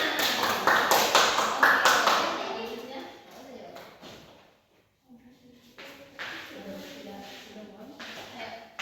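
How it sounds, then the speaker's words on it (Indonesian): A school class claps hands in quick rhythmic bursts during a classroom lesson, loud at first, then fading into a pause before a teacher's voice and soft room sounds take over. "Tepuk tangan semuanya"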